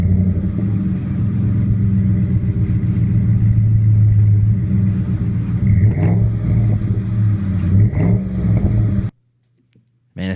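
A later-model car engine fitted with an aftermarket exhaust idles at a loud, deep rumble, then revs sharply twice in quick blips before cutting off abruptly near the end.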